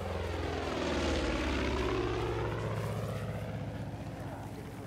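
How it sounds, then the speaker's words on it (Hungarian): A propeller airplane in the video game Far Cry 5 drones loudly and steadily overhead, its engine hum rising slightly and then easing as it passes close by. "Ja, a repülő jön, akkor jó van."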